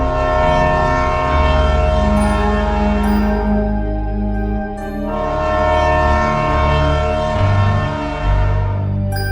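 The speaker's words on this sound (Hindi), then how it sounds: "और इतने में ही इनके बगल से भी एक ट्रेन जा रही होती है।" A train rushes past close by, its loud steady rumble and droning horn tones filling the scene throughout, with a brief dip midway before the roar swells again.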